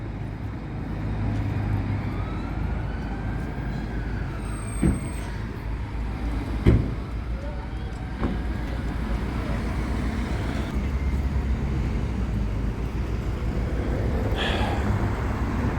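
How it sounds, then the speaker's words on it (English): Steady roadway traffic in Darlington, with cars and buses rolling past one after another, a continuous low rumble with a few sharp knocks and a louder pass near the end. "It's literally just car after car"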